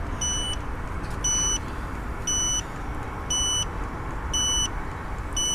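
Turn signal on an iScooter i10Plus 800W electric scooter beeping in a steady rhythm, six evenly spaced high electronic chirps about once per second over a constant low rumble of background noise.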